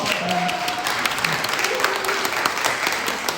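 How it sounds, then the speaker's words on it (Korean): An audience at a presentation event claps steadily and fairly loudly, the applause continuing without a break throughout. "우리 다 같이 박수 한번 할까요?"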